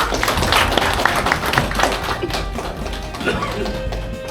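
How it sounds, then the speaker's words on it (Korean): An indoor audience at a photography lecture claps in steady, dense applause to welcome a speaker, the sound staying fairly loud and even throughout with some murmuring underneath. "박수로 맞아주시기 바랍니다."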